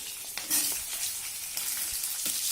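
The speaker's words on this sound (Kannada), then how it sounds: "ಈ 2 ಈರುಳ್ಳಿ ಕಟ್ ಮಾಡಿಟ್ಕೊಂಡಿದ್ದೆ ಹಾಕ್ಕೊಂಡಿದ್ದೀನಿ" Sliced onions frying in oil with mustard seeds, cumin and green chilli for mango rice give a soft, steady sizzle, quiet and close, with a couple of brief stirring scrapes.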